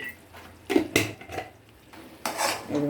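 A spoon stirring chili powder into spinach and sesame curry in a metal pan, a few loud clinks and scrapes against the pan over a faint background hiss.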